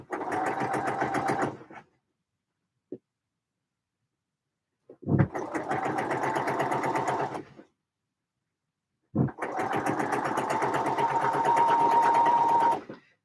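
A sewing machine stitching around curves, running in three steady bursts separated by pauses of silence, close and clear.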